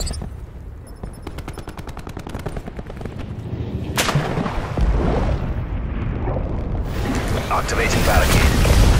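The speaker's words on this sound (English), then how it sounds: "Cluster grenade going out." Gunfire and booming cluster grenade explosions in Call of Duty Black Ops 4 multiplayer, with rapid automatic shots followed by a sharp blast and a building, loud rumble of detonations.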